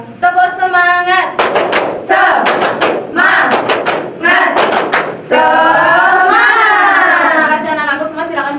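Schoolchildren in an Indonesian primary school classroom perform a rhythmic spirit clap, with a steady run of loud, close claps mixed with children's chanting voices throughout.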